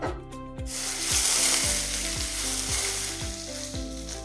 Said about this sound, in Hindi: हमारा ऑयल यहाँ पर गर्म हो चुका है, इसे भी हम इसके अंदर ऐड कर देंगे